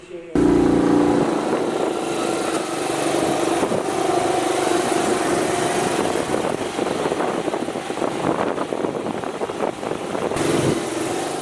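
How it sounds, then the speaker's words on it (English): A scooter engine drones steadily and close the whole way through while a passenger rides on the back through streets in China. "I'm finally getting to ride on the back of a scooter."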